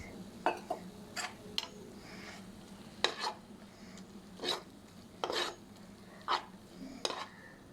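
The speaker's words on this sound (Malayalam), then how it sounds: "ഇതേപോലെ നല്ലപോലെ ഇളക്കുമായി" Maggi noodles are stirred in a pan with a utensil, giving intermittent soft scrapes and light clinks against the metal in a quiet kitchen.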